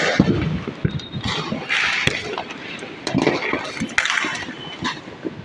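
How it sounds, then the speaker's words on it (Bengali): Fireworks bursting at a celebration, with repeated sharp cracks and crackling pops scattered through a dense, noisy outdoor din, fairly loud and close. "কত সুন্দর বাজি পড়ছে দেখুন"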